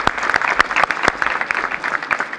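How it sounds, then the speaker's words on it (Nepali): A crowd at a law school sports award ceremony claps for the best goalkeeper winners, a dense patter of hands with a few sharp, loud claps standing out near the front and no voice over it. "उनीहरूलाई एकचोटि ताली बजाउँ सबले"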